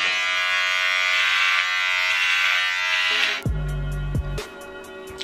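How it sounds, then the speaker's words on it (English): Electric shaver buzzing close against skin while shaving a neck, a loud steady hum that shifts pitch and stutters in the last seconds as it moves and is switched off. "Let's shave my neck."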